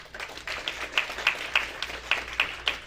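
A graduation audience claps briefly, a short scattered round of applause with distinct individual claps spaced regularly over a low room murmur.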